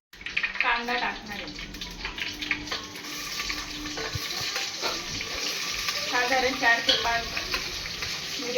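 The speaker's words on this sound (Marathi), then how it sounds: "हे लवंग तेजपान ते आपण सर्वप्रथम फोडणीला टाकणार आहोत" Whole spices (green and black cardamom, star anise, peppercorns, cinnamon, cloves and bay leaf) crackle and sizzle in hot oil for tempering, a loud continuous frying hiss with bursts of popping, while someone talks over it.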